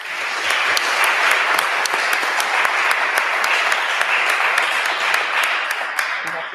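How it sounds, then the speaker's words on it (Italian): An audience applauds a professor at an Italian talk on rights and democracy, steady sustained clapping from a full room with sharp individual claps standing out, continuing evenly for several seconds. "io farei un applauso alla professoressa"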